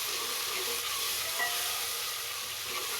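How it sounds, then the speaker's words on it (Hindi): Onion, tomatoes and green chilies sizzle in a pan while being stirred, a steady moderate hiss of frying with faint movement, no voices. "अब इसमें हम बाकी टमाटर और हरी मिर्चें डाल देंगे। इसको भी अच्छी तरह से मिक्स करते हैं।"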